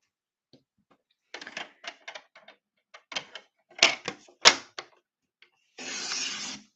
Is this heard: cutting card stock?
yes